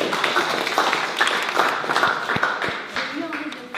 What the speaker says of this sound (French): On l'applaudit tous.